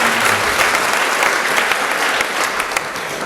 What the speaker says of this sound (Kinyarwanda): ukomera amashyi umuvyeyi wacu